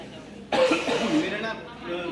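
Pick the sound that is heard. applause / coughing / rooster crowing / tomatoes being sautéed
coughing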